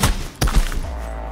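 Melee fast attack in Cyberpunk 2077, a pair of heavy dull thuds landing in quick succession, close and punchy, then fading into a low rumble.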